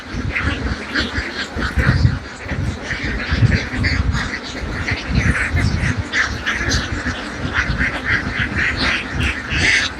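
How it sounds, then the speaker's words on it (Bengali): A flock of domestic ducks on a Bangladeshi duck farm quacks continuously and loudly at close range, with dense overlapping calls and no talk. "দেখুন সে হাঁসের বহরটি।"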